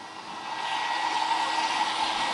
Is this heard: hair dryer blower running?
yes